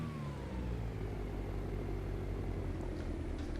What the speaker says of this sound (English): Let's crank up one engine and see what happens.